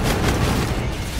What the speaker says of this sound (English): Oh, it's a shotgun.